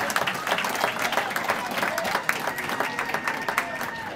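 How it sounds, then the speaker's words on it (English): Crowd applause at a high school women's athletic hall of fame induction ceremony honouring inductees and state championship volleyball teams: a brisk, fairly close round of clapping from many hands, with voices faintly mixed in. "Let's have a nice round of applause for all of our inductees this evening"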